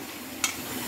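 A pot of chana masala, chickpeas cooked in a spiced masala, simmers with a soft, steady bubbling hiss and one brief sharper pop partway through.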